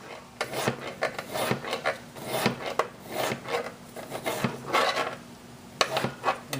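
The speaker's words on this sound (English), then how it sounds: "And the first 2 that I cut here, I'm cutting them small." Potatoes being cut into small pieces for beef stew in a homestead kitchen, a series of close, rhythmic knife strokes rasping through the potatoes and tapping the board, with no talk.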